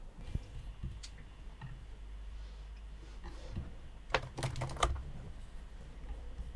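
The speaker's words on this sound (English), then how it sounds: "That was some fast typing that." Fast typing on a computer keyboard in a music studio, quiet rapid key clicks that build into a dense burst of louder clacks near the end, with no talking.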